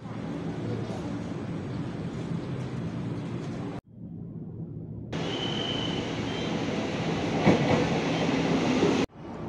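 An Indonesian commuter train rolling between stations, with a steady loud rumble and rattling carriage noise that briefly drops away and then returns, heard from inside the car.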